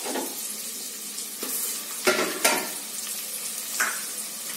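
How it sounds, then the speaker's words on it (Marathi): Bhajji mixture sizzles as it is stirred and fried in a pan, a steady close hiss broken by a few sharp spoon scrapes and clinks against the metal. "हिला थोडीशी परतू द्यायचं।"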